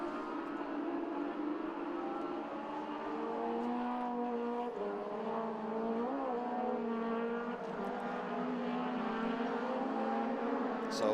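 Race cars lapping Mondello Park circuit during the final round of the Irish championship, a steady, continuous engine drone with rising and falling pitch as cars run at speed, moderately distant, with no voices.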